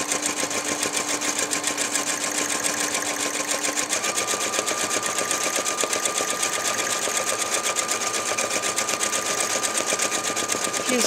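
A sewing machine stitches free-motion swirls in purple thread, its rapid needle chatter steady and continuous throughout, close up, with a slight change in tone partway through.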